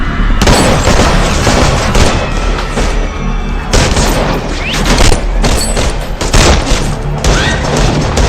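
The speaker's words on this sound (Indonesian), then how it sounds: "istri Moon Biu menembakkan pistol ke tubuh Andre." Rapid bursts of gunfire and heavy booms crash throughout an action film scene where a woman fires a pistol at a man, loud and dense with repeated impacts and no clear talk.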